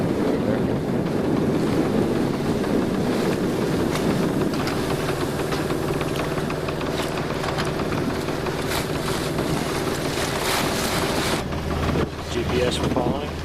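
A sailboat sails off Block Island with its motor running at the same time: a steady low engine drone sits under strong wind buffeting and rushing water from the hull.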